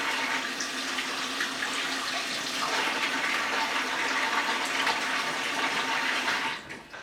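Cold water from a kitchen tap streams steadily onto freshly cut homemade potato chips sitting in a strainer, a continuous close rushing splash that holds for several seconds and then cuts off near the end.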